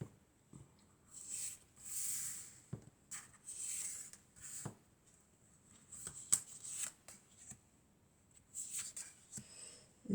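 Oracle cards are shuffled and drawn by hand in short riffling bursts, with soft paper flicks and taps between them, close and quiet with pauses in between.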